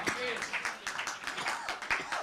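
A church congregation claps along during a Tamil prayer service, a steady patter of many hands filling the room while a preacher's voice carries over it.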